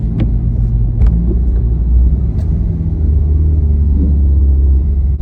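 Steady low rumble from a lifted 6th-gen Camaro on 33-inch Rough Country tires, with a suspected rear axle or differential fault; loud, continuous road and drivetrain drone heard from inside the car, with faint clicks.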